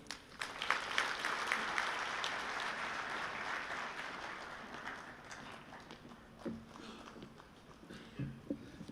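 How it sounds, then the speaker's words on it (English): Audience applause for the Minister at the Zimbabwe National Labour and Employment Summit 2026, a fairly faint, distant round of clapping that swells early and slowly thins out, with scattered individual claps and thuds toward the end. "Please, let's give another round of applause for the Minister."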